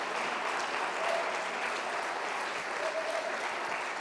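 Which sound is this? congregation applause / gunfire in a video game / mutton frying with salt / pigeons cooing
congregation applause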